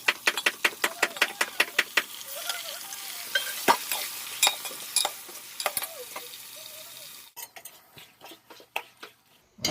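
Mutton and onions frying in a pan, with rapid rhythmic spatula knocks and scrapes against the metal over a sizzle, growing sparser and quieter toward the end.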